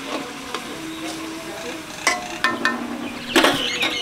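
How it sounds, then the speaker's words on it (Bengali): Potatoes are stirred into a spice paste of turmeric, cumin and chili powder frying in a pan for a Bengali potato and meat curry. A soft, steady sizzle runs under a few scraping spoon strokes near the end. "মশলা কষা হয়ে গেছে, এবার আলু দিয়ে দেবো।"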